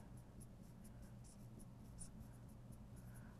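Chalk or marker strokes on a board during a physics lecture on inductors, a series of light, quick scratching taps against a steady low room hum, fairly faint and with no one talking.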